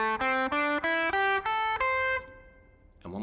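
Guitar picking single notes of the minor pentatonic scale, seven evenly spaced notes stepping upward, the last ringing out before another note begins at the end, clear and close.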